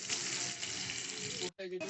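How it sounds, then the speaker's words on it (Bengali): Steady, close sizzling of potatoes frying with turmeric in hot oil, continuous and loud, with a brief break near the end before the sizzle resumes. "আলুগুলোকে একটুখানি হচ্ছে লাল করে হচ্ছে ভেজে নেবো আর একটুখানি হচ্ছে হলুদ দিয়ে ভাজছি"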